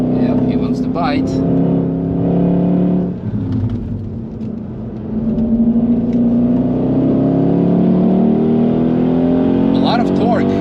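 A Mercedes C63 AMG Black Series engine pulls hard on the Nürburgring, a loud, continuous in-car drone whose pitch climbs steadily with a brief dip as it shifts, while a person talks over it throughout.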